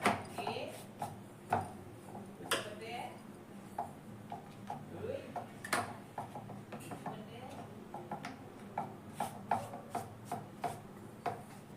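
Bolani dough being rolled out evenly on a board, giving repeated soft rubbing and tapping strokes in an uneven rhythm, close and fairly quiet.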